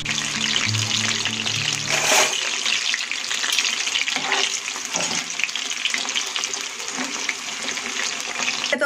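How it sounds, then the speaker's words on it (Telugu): Quartered stuffed brinjals deep fry in hot oil with a dense, continuous bubbling hiss; one louder burst comes early, and the sizzle stays close and steady without any voices. "వీటిని ఈ వీడియోలో చూస్తున్న విధంగా 4 భాగాలుగా కట్ చేసుకుని ఈ విధంగా డీప్ ఫ్రై చేయండి ఫ్రెండ్స్"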